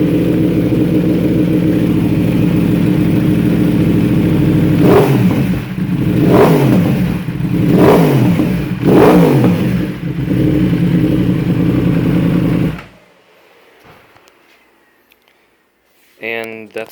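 Exhaust of a 2016 Yamaha R1 motorcycle, warmed up, idling with a deep burble and four sharp throttle blips rising and falling in quick succession before the engine cuts off; a voice briefly talks near the end.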